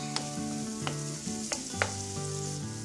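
Tamarind and mint sauté in a hot pan for mint thuvayal, giving a steady close sizzle punctuated by about five sharp scraping strokes of the spatula at an irregular pace.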